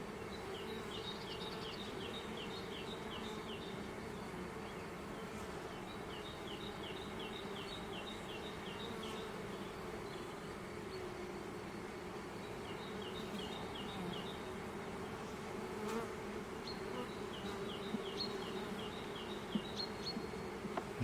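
Honeybee colony in an opened hive, a steady dense buzzing hum with individual bees flying past close to the listener, continuous and fairly faint.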